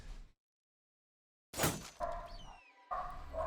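Dogs in a medieval-style video game give a few sharp barks and yelps in quick bursts after a brief silence, fairly close and loud with game sounds around them.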